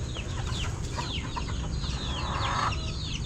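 Roosters and chickens cluck and chirp at feeding time, a busy flock of overlapping calls close by over a steady low background hum.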